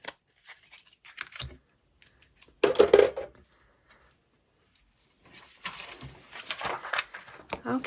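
Scissors trim paper for a Christmas tag in a few crisp, close snips, with quiet pauses between them and a longer run of rustling cuts toward the end.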